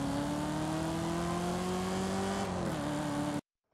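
Chevrolet Camaro engine in an online Forza Horizon 5 race, a steady loud drone holding near one pitch with a slight rise, then a quick shift before it cuts off abruptly.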